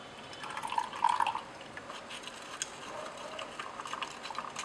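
Water running into a container to dissolve about 20 grams of sodium bromide makes a close trickle with drips, a little louder early on and then a softer, steady flow.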